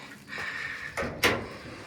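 The front door of a high-security, three-storey hotel on a San Juan street swings open with a short scrape followed by a sharp click and clunk of the latch, heard close over steady outdoor background noise.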